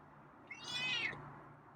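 A feral cat gives a single drawn-out meow at close range, rising and then fading, with a low steady hum underneath and no talking.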